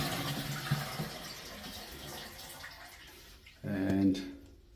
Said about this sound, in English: we're going to flush and see if we get water anywhere